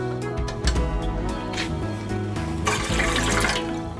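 Water is poured into a cooking pot for steaming paneer momos, making a close, splashing gush with a trickling, sloshing texture that grows brighter and fuller toward the end.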